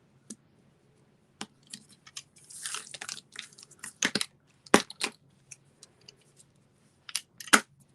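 Scissors cutting cardstock for a pop-up gatefold card, giving a scattered run of crisp close snips and clicks with quiet pauses between them and a few louder cuts near the end.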